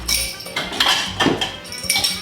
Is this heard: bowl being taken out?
yes